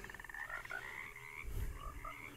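Frog croaking in the horror video game Alone in the Dark, a repeated throaty croak over a dense, moody game ambience, steady and fairly close with a louder swell near the end.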